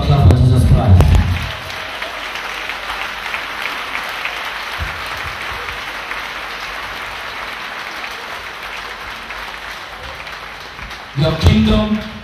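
Congregation clapping for Jesus Christ at a church deliverance service, loud voices opening, then sustained crowd clapping and noise through the middle, with a shouting voice returning at the end.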